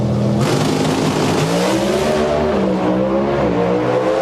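Loud, roaring Pro Stock drag race car engines at full throttle at the 2003 NHRA Super Nationals, a dense continuous blast with rising pitch as the cars accelerate hard off the line.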